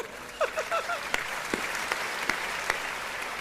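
An audience at a Hindi comic poetry gathering claps in scattered bursts beneath a voice, with a few sharp individual claps standing out from a soft, steady patter.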